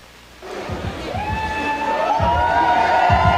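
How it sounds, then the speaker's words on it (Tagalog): A crowd at the MGM Grand Arena in Las Vegas cheers and shouts as Manny Pacquiao arrives, a swelling mass of whoops and yells rising over rhythmic low thumps. "Napuno ng mga tao at malalakas na hiyawan ang labi ng MGM Grand Arena nang dumating si pambansang kamao Manny Pacquiao."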